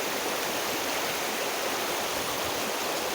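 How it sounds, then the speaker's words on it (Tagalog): A stream in the Black Forest of south-west Germany, its water rushing steadily as a dense, continuous hiss with no voices. "Let's take a look again the water here."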